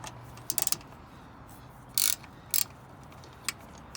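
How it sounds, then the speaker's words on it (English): A wrench works loose the bolts during a Tein coilover install on a first-generation Scion tC, giving short, sharp ratcheting clicks in a few separate bursts with quiet gaps between, close by and with no talking. "So get all those three loose with a 14 millimeter key wrench."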